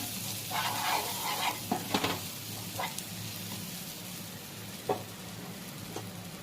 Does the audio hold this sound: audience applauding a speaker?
no